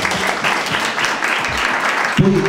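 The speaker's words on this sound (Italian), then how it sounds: "Un applauso." Close, loud applause from an audience at a women's photography biennale award ceremony in Mantova, crowd clapping steadily with a short tonal sound near the end.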